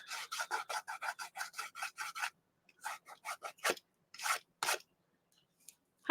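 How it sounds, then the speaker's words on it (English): Coarse, sandy art texture tool being scraped: quick runs of short, gritty rasping strokes close up, a fast burst of about ten followed by slower, scattered scrapes. "It's just a coarse thing that you scrape on for texture."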